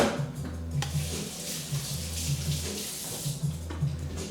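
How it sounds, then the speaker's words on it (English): Hands being washed under a running kitchen tap, a steady close splash of water with soft background music and no talking. "I'm going to wash my hands"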